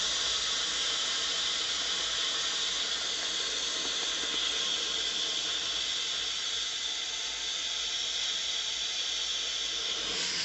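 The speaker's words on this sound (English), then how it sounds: "when I go ahead and release the pressure on a quick release" Steam hissing out of a pressure cooker during a quick release, a loud, steady, unbroken rush of bright hiss that holds level for the whole stretch, with no talking over it.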